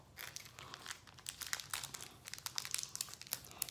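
A Pokémon card pack wrapper is crinkled and torn open close to the mic in quick, irregular bursts of crackling that grow busier toward the end, with no talk.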